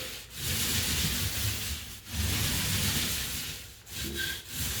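A rough, scratchy rolling sound repeats in long strokes with brief pauses between passes, close and steady, as a paint roller running low on paint drags over an interior wall.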